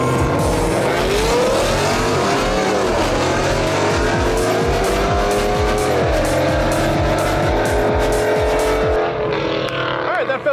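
Custom Ford Mustang race cars launching down drag strip lanes, loud roaring engines revving hard with rising pitch sweeps and some tire squeal, close and continuous.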